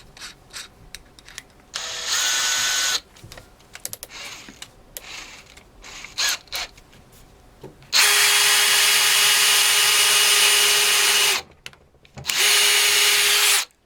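A power drill bores into wood with a 3mm brad point bit, three loud sustained whirring bursts, the second and longest running several seconds, separated by quieter handling noises and clicks.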